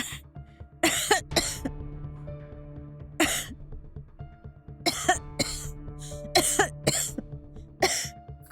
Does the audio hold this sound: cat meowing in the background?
no